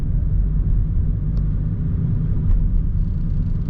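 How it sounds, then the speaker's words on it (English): Car driving down Cass Avenue through Midtown Detroit, heard as a loud, steady low rumble of engine and road noise from inside the cabin, continuous with no speech. "I'm just going to drive straight down"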